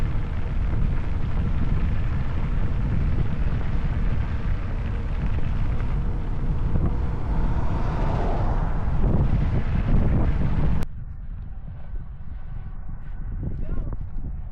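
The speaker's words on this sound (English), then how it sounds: "the wind is really started to pick up in the last half an hour" Strong side wind buffets the microphone in hot weather, a loud, steady roaring rumble that suddenly drops to a quieter hiss near the end, with a voice speaking over it.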